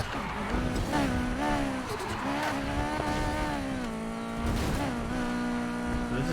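Engine of a McLaren 570S Spyder racing in Need For Speed Heat, a loud, steady high-revving drone that rises and dips with gear changes and throttle, up close and continuous, with a short tire squeal.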